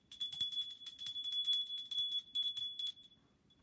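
High, bright bell rung repeatedly in quick shaking bursts, a clear metallic ringing with several sustained tones, close and fairly loud with no talk, fading out at the end.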